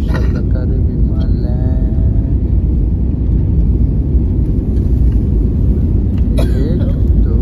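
Inside an airliner cabin during landing, a loud, steady low rumble fills the space continuously, with faint voices now and then over the engine and airframe noise.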